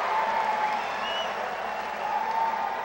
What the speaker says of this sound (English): And the crowd delights in giving Roddick the support